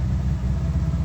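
Low mechanical drone from the gearbox and drivetrain of a Nissan S13 hatch, a steady rumbling hum with faint periodic knocks, close and continuous over a second.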